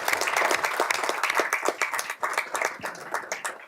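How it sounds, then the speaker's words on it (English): A room at a school board meeting claps for three award recipients, a steady dense round of applause that holds throughout and then thins out toward the end. "one more round of applause for our 3 award recipients."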